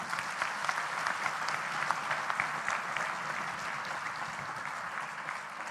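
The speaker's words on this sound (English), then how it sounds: "all of you should have a big round of applause for your teacher and parents also" An audience applauds at a business school's annual convocation, honouring teachers and parents with a moderately quiet, even round of dense clapping that holds steady from start to finish.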